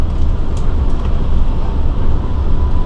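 The Matarmaja economy train on the Malang–Pasar Senen route rumbles past in a loud, continuous low roar heard at close range, with no distinct clacks and no talk.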